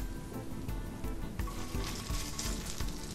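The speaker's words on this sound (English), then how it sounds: "As you can hear, a little sizzle there." Chicken sizzles gently in melted butter in a pan for jerk chicken, a steady soft crackle close by with no voices.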